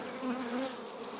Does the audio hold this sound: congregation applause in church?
no